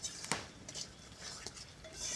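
Meat stirred in a cooking pot, quiet scraping and light metallic clinks of a spoon against the pot with faint sizzling, close but soft, with no talking.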